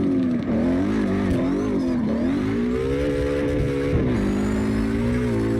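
A Mustang drifting in CarX Drift Racing Online, its engine note loud and continuous, rising and falling as it revs through the slide, with faint tire noise underneath.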